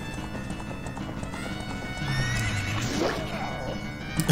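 A horse in Zelda Ocarina of Time 3D gives a loud, drawn-out neigh over steady galloping hoofbeats, clear and close with no talking.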